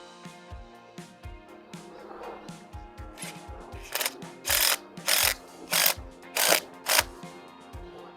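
An impact driver drives a concrete screw into limestone: a few soft clicks and knocks give way to a run of five loud, rapid hammering bursts, each about half a second long, close to the mic.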